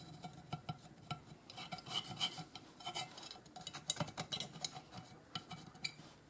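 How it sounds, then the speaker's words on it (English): A copper tubing tool scrapes fouling from the action of a dirty Marlin Model 995 semi-auto rifle, giving repeated rasping, scratchy strokes in an irregular rhythm, close and moderately loud with no talking. "I'm going to scrape all the fouling out of here."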